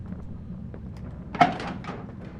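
A door swings open in the horror game Don't Scream, a short muffled thunk with a brief scrape over quiet room ambience, heard alone.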